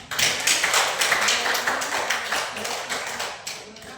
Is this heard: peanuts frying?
no